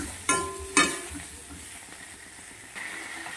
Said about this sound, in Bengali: 1 মিনিটের মধ্যে সবজির সঙ্গে এটাকে আমি কষিয়ে নেব।